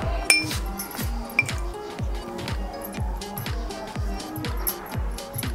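A metal spoon clinks repeatedly against a jar or bowl while oil goes into an instant green chilli pickle, producing light, close, irregular taps with no speech.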